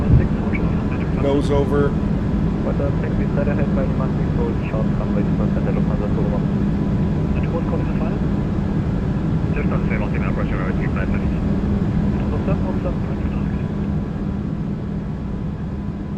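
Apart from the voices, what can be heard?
A340-300 engines at climb thrust in a flight simulator video game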